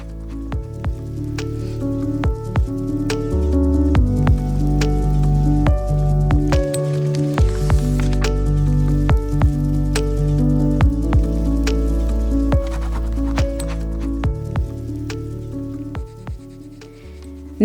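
Heavy rain as a sound effect in a bedtime story, a steady wash of patter and sharp drops on a surface, loud and continuous with no voice over it.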